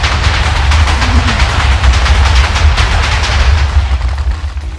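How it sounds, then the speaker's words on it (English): TNT blocks detonating in a video game after rising out of water, a dense rumbling barrage of overlapping booms and crackles filling the whole stretch, loud and continuous with no talk. "TNT got out of the water, and it blew everything up."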